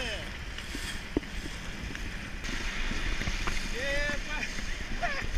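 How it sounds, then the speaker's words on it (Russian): Water sloshes and splashes against a small fishing boat out trolling for pike and zander, while wind buffets the microphone, with occasional short creaks. "Волны!"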